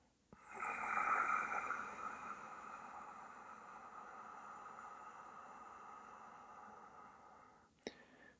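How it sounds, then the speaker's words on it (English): Ujjayi yoga breathing, a soft ocean-like hiss made at the back of the throat with the mouth closed, held as one steady, close breath for about seven seconds after a quick start, with no talking. "you're going to begin to create a soft hissing sound, an ocean sound at the back of your throat."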